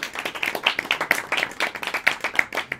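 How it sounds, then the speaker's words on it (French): Sparse, fairly close clapping from a few people at a live comedy show, individual sharp claps in a loose irregular rhythm over a couple of seconds. "C'est elle qu'il faut applaudir,"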